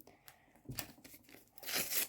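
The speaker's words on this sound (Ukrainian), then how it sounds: "Давайте почнемо з ось цей відклею" A paper sticker is peeled off in short, quiet ripping bursts, ending with a louder, longer pull.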